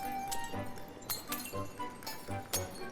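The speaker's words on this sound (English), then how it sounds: "it's just like all the glass on the ship is just busting" Glass shattering and clinking aboard the sinking Titanic in the ship-destruction game Floating Sandbox, with about five sharp bursts spaced roughly half a second apart, each one bright and near.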